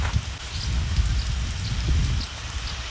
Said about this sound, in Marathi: हे बघा पाऊस चालू झालाय